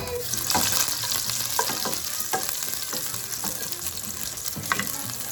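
Garlic sizzles steadily in a hot pan for a smoked herring and dumpling dish, a close, continuous crackling fry with occasional spoon scrapes and no voices.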